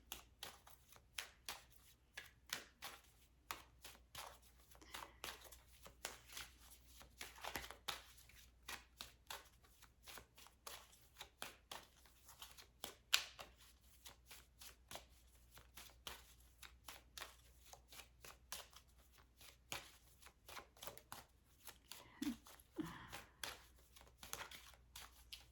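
Angel number cards shuffled at close range for a tarot-style reading, a quiet, steady run of crisp riffling flicks and soft card slaps repeating through the whole stretch with no talking.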